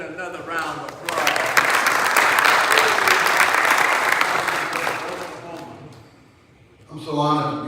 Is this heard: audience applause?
yes